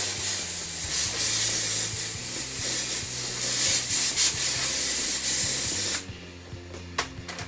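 A jewelry steam cleaner blasts a diamond ring with a loud, steady hissing spray for about six seconds, then cuts off, leaving faint residual hiss and a couple of brief spurts.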